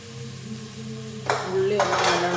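Sliced onions drop into hot oil in a pan for a Kerala-style biryani masala, bursting into a steady broadband sizzle after a brief metallic clink, continuing loud and close to the end.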